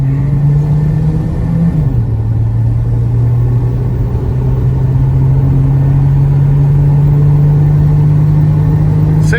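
A Volvo 240 engine is revving hard under full throttle while the car accelerates, giving a loud, steady mechanical drone whose pitch dips briefly, then climbs slowly and holds for about nine seconds.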